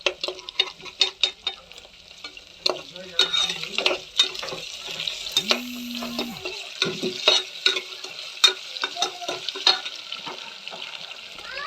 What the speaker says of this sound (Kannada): ಒಂದು ಸ್ವಲ್ಪ ಜೀರಿಗೆ ಎಣ್ಣೆಗೆ ಸರಿಸಿ ಹಾಕ್ಕೋರಿ.